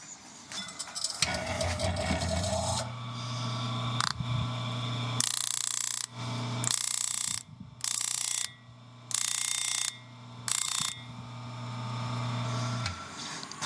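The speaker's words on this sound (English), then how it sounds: "I'm going to come up here to my flat sander and I'm going to take off what I need to take off" A flat sander grinds down a knife part in a workshop, with a motor hum and repeated bursts of harsh abrasive grinding as the metal is pressed on and lifted off the belt several times.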